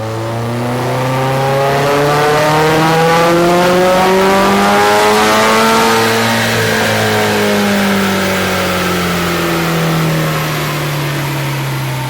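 A tuned 2019 Subaru WRX STI engine revs hard, rising and falling in pitch through several gear pulls, loud and close with a raspy boxer-style burble.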